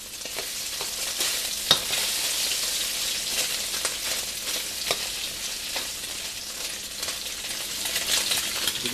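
Tofu frying in a pan for General Tso's tofu, a steady dense sizzle with crackling pops and occasional stirring scrapes, loud and close with no talking.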